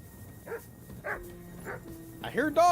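A dog barks in the video game Kingdom Come Deliverance 2, a few short, separate yips spaced out at moderate distance, then a louder, closer whimpering bark at the end, with a voice talking alongside.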